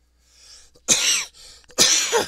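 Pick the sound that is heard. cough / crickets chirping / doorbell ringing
cough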